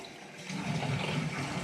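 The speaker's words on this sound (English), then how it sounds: "let the system stay on normal, and drain it by the faucet at the front" Water drains from the front faucet of a water filter system, a soft continuous rushing flow that grows slightly louder partway through, heard alone.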